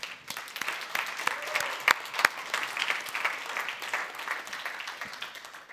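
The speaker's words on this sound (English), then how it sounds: "A little bit of clapping to our tech team." Audience at a UX talk claps for the tech team: dense, steady applause filling the whole stretch at moderate level, with a few sharper individual claps standing out.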